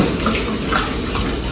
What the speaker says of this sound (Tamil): 20 லிட்டர் தண்ணி ஊற்றணும்.